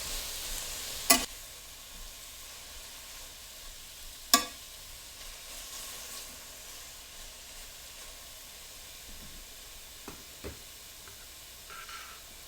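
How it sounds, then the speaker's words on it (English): Kale sautéing in a pan gives a soft, steady sizzle and hiss close by, with two sharp utensil knocks against the pan and a few faint stirring scrapes near the end. "Just give that a little stir, let that begin to wilt."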